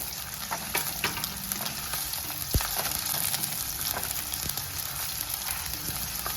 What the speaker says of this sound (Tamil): நம்ம எண்ணெயிலேயே எல்லாத்தையும் நல்லா வதக்கிக்கலாம்